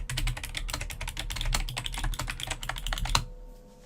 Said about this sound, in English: I can use this to type any notes I want to record on that particular transcript.